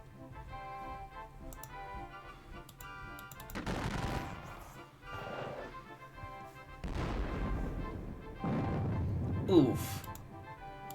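Gunfire from Napoleonic-era guns in a Battle of Waterloo strategy video game, a few scattered bursts and booms rising over background music with clicking interface ticks.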